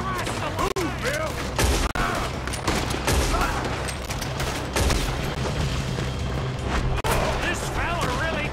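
Heavy gunfire in a shootout during a robbery in Red Dead Redemption 2, a dense, continuous barrage of shots and booms throughout, loud and close, with shouting voices mixed in.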